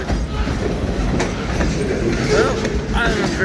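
A long train passes on the railway track nearby, a loud continuous rumble with rhythmic clickety-clack and occasional faint wheel squeal.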